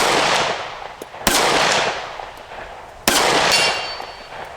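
Two sharp, loud gunshots from a Taurus GX4 pistol, spaced about two seconds apart, each followed by a long ringing decay outdoors; no talking.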